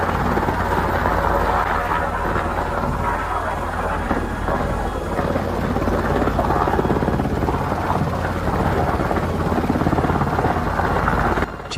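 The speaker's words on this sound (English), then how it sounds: "Check out this Black Hawk helicopter in action." A Black Hawk helicopter flying during water drop practice gives a loud, continuous rotor and turbine roar that stays close and steady throughout.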